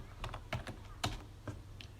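Keys on an IBM Personal Computer 5150 keyboard are struck one at a time, several separate loud clacks with short pauses between them over a low hum.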